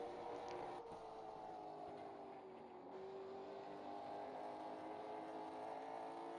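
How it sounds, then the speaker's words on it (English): A late model stock car engine in the iRacing game at Hickory holds a steady, faint drone that rises in pitch as the throttle comes up, with a brief dip partway through. "We're going to throttle up."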